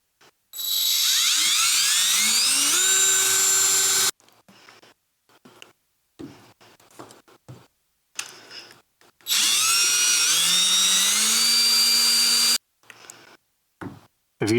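Two long bursts of a high-pitched cordless drill whining up to speed as it bores into a Chevrolet Colorado ZR2 roof, separated by quieter clicks and handling noises.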